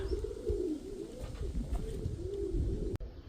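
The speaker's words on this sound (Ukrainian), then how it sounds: "Все молоді голубята." Young pigeons coo softly in repeated rising and falling phrases, close by in a quiet loft, with a single sharp click near the end.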